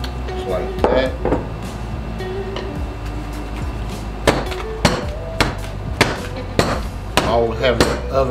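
Small filled loaf pans of caramel banana nut bread batter are tapped on a counter, giving a series of sharp, irregular knocks and thuds of varying loudness, some clustered close together, over a steady low background.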